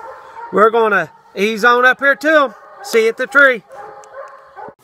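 Walker hounds bay and howl at a treed animal in long, drawn-out wavering cries nearby, several overlapping, while someone speaks briefly between them outdoors.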